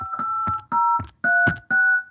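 Touch-tone keypad dialing on a phone calling a house line, four or five distinct dual-tone beeps in a steady rhythm, close and clear with no talk.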